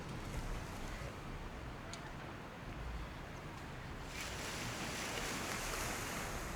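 Steady surf washes onto North Da Nang Beach in Vietnam, a continuous broad rush of waves mixed with wind buffeting, heard alone without voices.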